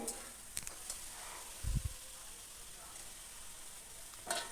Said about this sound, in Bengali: এবার এটাকে আমি ভালো করে একটু কষিয়ে নিচ্ছি